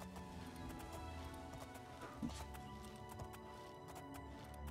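Horse hooves clip-clop steadily in the Oblivion video game, a continuous mid-distance trotting rhythm over a dense game ambience, with no talking.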